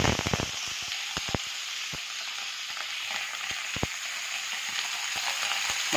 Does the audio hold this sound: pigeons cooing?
no